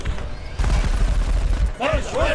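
Video game gunfire in XCOM Enemy Within: loud booming shots and a rumbling burst up close, followed by a voice speaking over the fading noise.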